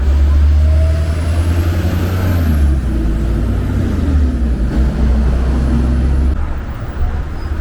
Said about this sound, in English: this is our bus number 58.